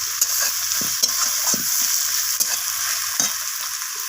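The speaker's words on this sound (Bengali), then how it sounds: "টমেটোটাকে দেওয়ার পর আমি পেঁয়াজের সাথে আবারও টমেটোটাকে ভাজা ভাজা করে নিচ্ছি" Chopped tomatoes and onion fry in a pan with a steady bright sizzle, broken by several sharp clinks and scrapes of a spatula stirring at uneven intervals.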